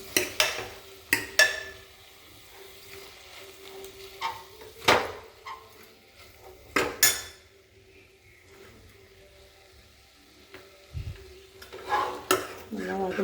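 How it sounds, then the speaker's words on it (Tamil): A spatula scraping and stirring potatoes and vegetables in a pan while sautéing for kuruma, with irregular clinks and scrapes over a faint sizzle. "நல்லா வதக்கிக்கலாம்."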